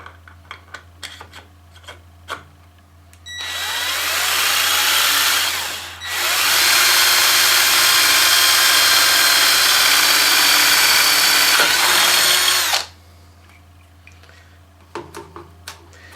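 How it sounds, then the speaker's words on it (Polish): Cordless drill-driver with an 8 mm bit drilling through a plastic pipe held in a Yato YT-39700 perpendicular drilling guide, a loud steady whine lasting several seconds with a brief dip midway, framed by clicks and handling noises. "Tutaj mamy rurę plastikową, wiertło, ósemeczka, Wkrętarka ustawiona na wiercenie."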